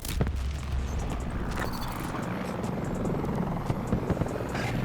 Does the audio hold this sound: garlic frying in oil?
no